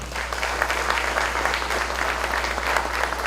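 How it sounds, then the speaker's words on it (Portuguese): A church congregation claps steadily and evenly throughout, a dense wash of applause at moderate distance with a constant low hum underneath and no talk. "Aplauda o Senhor."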